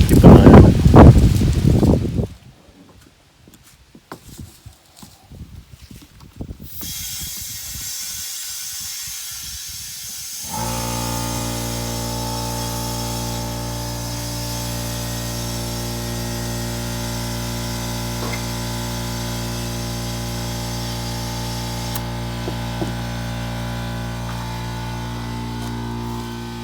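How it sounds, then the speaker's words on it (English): An air compressor inflates a Gravely 18G tractor tire; a brief burst of handling noise and quieter rustling give way to a steady, loud mechanical drone that runs continuously to the end. "Can't hear anything with that stupid compressor going."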